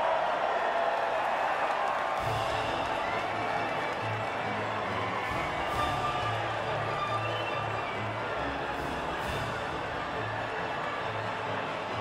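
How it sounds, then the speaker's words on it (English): A race crowd cheers and applauds steadily around the podium in the F1 2019 video game. The noise is a loud, continuous wash of distant voices and clapping with low rumbles underneath. "the reaction from the crowd must be incredibly uplifting for them."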